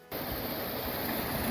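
Steady rushing water from a stream beside a mountain hiking trail near Carson Pass, close and continuous after a sudden start, with no speech.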